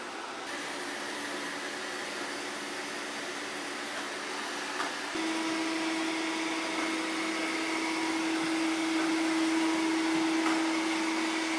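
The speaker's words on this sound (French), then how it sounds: "c'est un aspirateur qui est discret dans son ensemble" A Eureka E10s robot vacuum cleaner runs with a steady whooshing motor hum that shifts partway through to a slightly louder pitch with a clear tone, continuous and close, with no voices.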